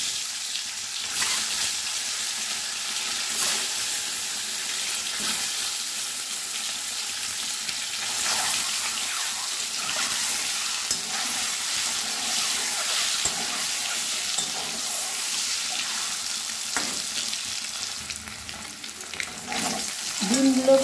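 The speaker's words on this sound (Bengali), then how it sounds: "কড়াইয়ে আবার 2 চামচ সরষের তেল দিয়েছি, তেলটা গরম হয়ে এসছে। এবার আমি ডিমগুলো একটু ভেজে নেব।" Eggs fry in two spoons of hot mustard oil in a kadai, a steady broad sizzle running throughout with occasional stirring and clinks, loud and close with no talk.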